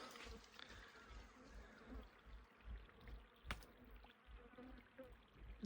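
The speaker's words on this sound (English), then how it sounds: "Excuse the flies, they're friendly." Flies buzz close by at a reedy, moist spring site along the Oodnadatta Track in outback Australia, a steady low insect drone with faint water trickling beneath.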